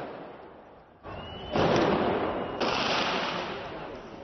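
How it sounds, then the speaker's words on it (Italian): Firecrackers and paper bombs blast at an anarchist street protest in Turin amid clashes with police. A dense, loud roar of crackling explosions swells and persists with harsh, distorted bursts. "Petardi, bombe carta e sprangate."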